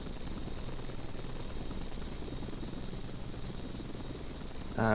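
A helicopter in a video game flight simulator drones steadily with a continuous rotor and engine roar, loud and close, holding level throughout with a brief louder burst right at the end.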